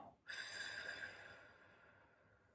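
One slow exhale during a breathing exercise, a soft, close airy breath that begins abruptly and tapers away over about two seconds, alone and faint.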